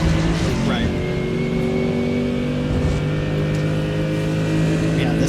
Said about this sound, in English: You can hear the curbs, you can hear the engines